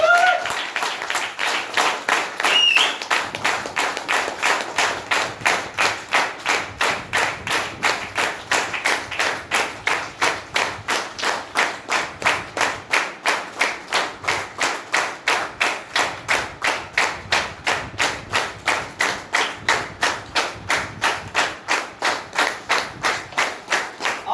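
Sustained rhythmic clapping from an audience welcoming a business leader onto the stage at a seminar event, steady and fairly loud throughout, with a few louder thuds early on and no talk.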